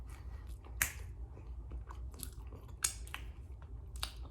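Quiet, close chewing of In-N-Out fries topped with onions and cheese, with soft wet mouth sounds and a few sharper crunchy bites spaced irregularly.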